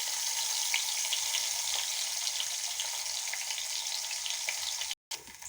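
Eggs seasoned with turmeric and salt fry in white oil, giving a steady, dense sizzle with small crackles throughout, close and even, with a brief cut near the end.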